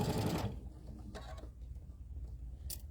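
A sewing machine stitching a chenille pillow runs in a brief loud whirring burst, then stops, leaving quieter background clicks and rustles.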